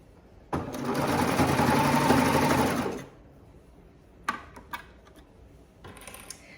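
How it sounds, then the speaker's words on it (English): A domestic sewing machine stitches around the edge of a pair of leggings, running steadily for about two and a half seconds before stopping, followed by a few faint clicks and handling taps. "And we're just sewing all the way around here."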